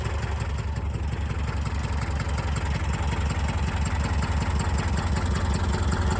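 A 1984 Subaru Brat's EA81 engine idles steadily and close, firing evenly with a constant rhythmic chug and no voices over it; its timing is slightly off after sitting parked for ten years.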